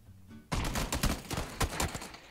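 Rapid bursts of gunfire in PlayerUnknown's Battlegrounds, a loud volley of shots cracking in quick succession after a brief quiet moment.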